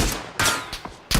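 Gunfire in a mobile shooter video game: several sharp, loud shots in quick bursts, close and separated by brief gaps.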